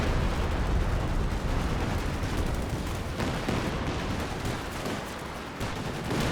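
Dense, continuous rumble of a Katyusha rocket artillery barrage in a World War II strategy game, loud and unbroken with overlapping blasts and crackle throughout.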